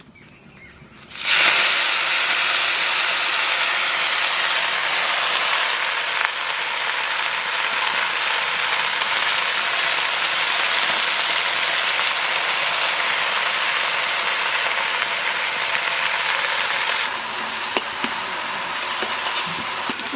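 Tender young sour greens drop into hot oil with mustard, bursting into a sudden loud sizzling hiss that holds steady for about fifteen seconds before easing slightly, with no voices.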